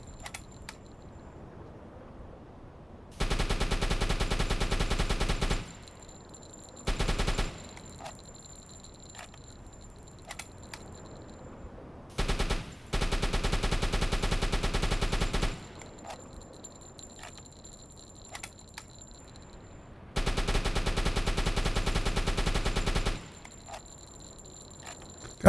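Gunfire hitting a ship in the WW2 submarine game UBOAT: loud, dense bursts of rapid fire lasting a few seconds each, separated by quieter stretches with faint ticking.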